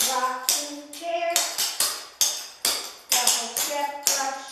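Tap shoes striking a hard floor in a steady practice sequence of double steps, brush-ups and basic steps, about a dozen crisp, close, ringing taps falling in quick grouped rhythms with no talking.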